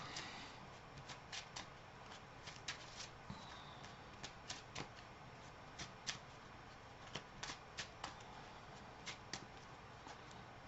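A deck of Marvel Champions cards being shuffled at a table, a quiet run of crisp, repeated riffling flicks and snaps spread across several seconds, with no talking.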